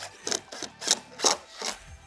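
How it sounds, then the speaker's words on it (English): Cordless power drill driving screws into pre-drilled holes in a wooden board on a Habitat for Humanity build site, heard as four or five short whirring bursts in a rough rhythm, close and fairly loud. "Then you get your drill ready."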